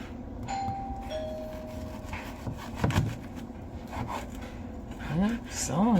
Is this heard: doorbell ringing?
yes